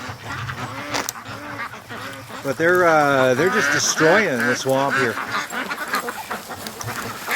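Free range ducks quack and honk at a muddy swamp they have churned up, the calls fairly close and mixed in under someone talking throughout.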